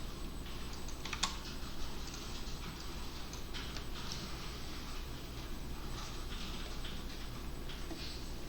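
A computer keyboard being typed on as a Java version check command is entered during a database class, with soft, quick keystroke clicks over a steady background hum and no talking.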